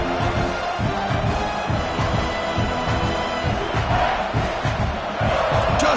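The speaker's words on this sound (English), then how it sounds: "this home crowd is fired up and ready to make a difference today." Home crowd at a football game roaring and cheering continuously, a dense loud wall of voices filling the stadium.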